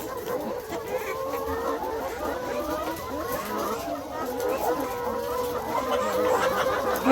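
Chickens clucking and murmuring close by while being fed, a steady busy chatter of fowl throughout, with people talking over it.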